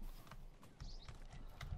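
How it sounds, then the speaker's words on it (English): Horse hooves clip-clop in the RLCraft version of Minecraft, a quiet run of light, uneven hoof knocks over a steady game background hum. "Let's actually put the horse in there for now."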